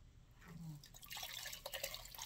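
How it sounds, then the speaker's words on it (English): Water added to Amaco Velvet underglaze paint while painting bisqueware: quiet trickling and dripping with a few soft splashes, close and faint, with no talk. "I'm going to try to add some water to this"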